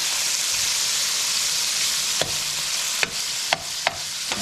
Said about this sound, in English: I'm just gonna like saute it a little bit before adding the bok choy.